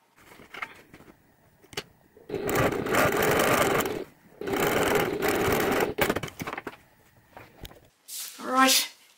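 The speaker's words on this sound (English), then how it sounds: "take that to the sewing machine and I'm going to stitch right on the very edge there" A sewing machine stitches along the very edge of fabric for a handmade memory bear, running in two steady bursts of roughly two seconds each, with quieter handling sounds and brief pauses between them.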